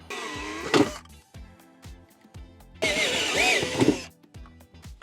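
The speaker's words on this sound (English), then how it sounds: "So let's drill it a little bigger." A power drill whines in two short bursts with a pause between, its pitch rising and falling as it enlarges a hole for a Tesla Model 3 wireless phone charger.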